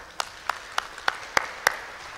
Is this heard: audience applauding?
yes